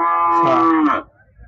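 A cow at a cattle market gives one loud, close moo lasting about a second, rising then trailing off, followed by faint background murmur.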